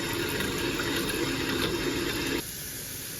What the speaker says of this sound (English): For this faucet here, I did remove kind of faucet cap on it, just kind of let it run a bit better.